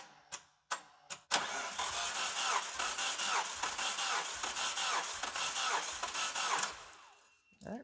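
After a few sharp clicks, a car engine on a Japanese tuner car with a bad starter cranks steadily for about five seconds during a compression test, its rhythmic churning loud and close before it winds down.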